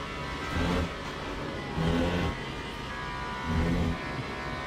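A race car engine in the video game Le Mans Ultimate drones steadily, rising into three brief revving swells spaced a second or so apart, with a constant mechanical hum underneath.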